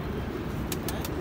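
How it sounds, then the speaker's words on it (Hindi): A brief low coo from a high flyer pigeon rumbling close by, with a few sharp clicks over it and no speech. "ये तो अपना पुराना कबूतर आ रहा है ना"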